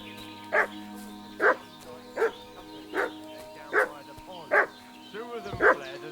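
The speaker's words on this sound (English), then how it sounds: "What's that dog making such a fuss about?" A dog in the video game Kingdom Come Deliverance 2 barks seven times in a steady, evenly spaced rhythm, each bark sharp and moderately loud over a low ambient hum.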